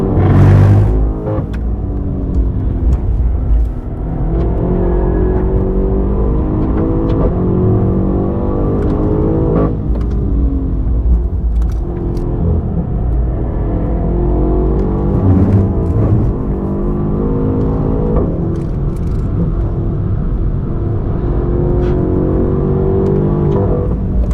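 A BMW M8 Competition tuned past 700 hp lapping the Nürburgring, its engine droning loud and close throughout, pitch rising and falling steadily with gear changes and no voices over it.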